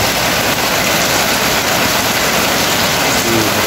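Dense, steady hiss of heavy rain pouring down without a break, broad and loud, with no voices.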